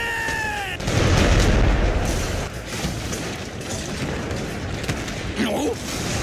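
A heavy cannon blast in the game Shadow Tactics: Blades of the Shogun booms once, followed by rumbling and crackling battle noise, with an earlier whistling tone and a brief cry near the end.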